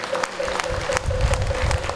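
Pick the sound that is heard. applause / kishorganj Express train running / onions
applause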